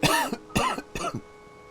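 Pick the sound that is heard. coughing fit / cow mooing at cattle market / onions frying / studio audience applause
coughing fit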